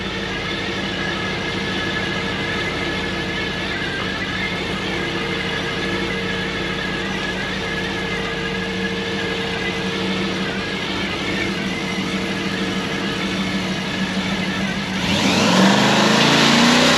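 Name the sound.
drag car doing a big burnout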